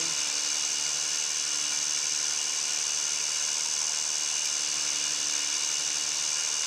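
A small Petite Lime hand shaper machine runs steadily, giving off a continuous high-pitched motor whine and hum, close and even, with no talking.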